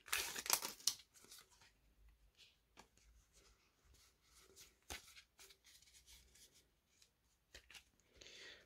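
Pokémon card booster pack wrapper torn open, a sharp crinkly rip at the start followed by scattered soft crinkles, rustles and taps of handling, close up and quiet.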